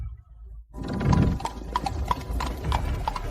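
Horse hooves clip-clop at a steady walking pace through a traditional wedding procession where a riderless horse leads, starting after a brief silence and continuing with evenly spaced sharp knocks over a low murmur.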